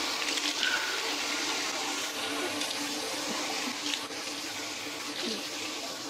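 Water runs steadily from a tap into a sink for washing during wudu, a continuous close hiss and splash filling the whole stretch.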